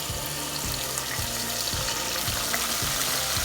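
Onions frying in a pot for Ghanaian shito, a continuous broad sizzle under a regular pulsing low thump, steady and close with no talking.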